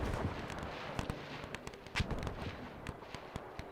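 Artillery pieces fire in the strategy game Between Empires, playing as France, a rapid scatter of distant booms and sharp cracks, one louder blast near the middle, over a rumbling battlefield bed.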